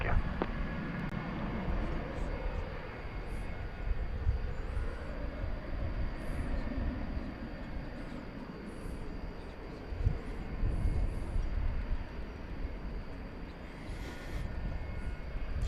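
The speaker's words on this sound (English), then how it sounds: "So, UPS on the move. The MD-11." A UPS MD-11 jet moves about an airport at night, a steady distant engine roar holding throughout, with voices talking over it now and then.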